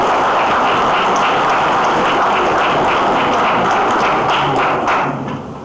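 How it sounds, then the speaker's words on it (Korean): A large seated audience at an advisory council launch ceremony applauds to approve newly appointed officers, loud and dense clapping that holds steady before tapering off at the end. "위원님들이 동의하시면 모두 힘찬 박수로 의결 부탁드립니다"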